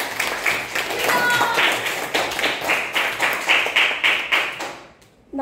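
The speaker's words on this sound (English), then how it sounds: "Give a big round of applause to team E." Children in a classroom clap for a team, a close, uneven burst of rhythmic hand claps that pulse together before stopping abruptly, with voices mixed in.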